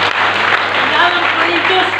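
Church congregation applauding in a dense, continuous wash of hand claps, loud and close, with a voice talking over it.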